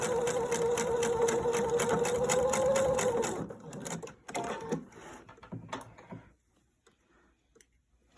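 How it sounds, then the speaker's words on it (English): A sewing machine stitches fabric with a fast, steady mechanical whir for about three seconds, then stops, leaving scattered handling clicks and rustles before near silence. "Let the machine pull the fabric. Don't push the fabric or pull it."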